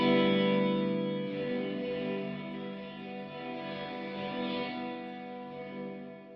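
A guitar plays through The Flick, a DIY reverb, tremolo and delay pedal, with its wet reverb signal turned up. A sustained chord rings out alone, washed in a lush, lingering tail that slowly fades.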